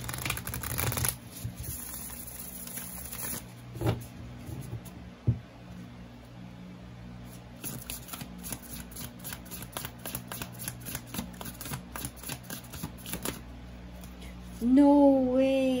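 Tarot-style reading cards are shuffled at length in soft, continuous riffling rustles, with a few sharper slaps as cards are cut and drawn, close and fairly quiet; a voice briefly speaks near the end.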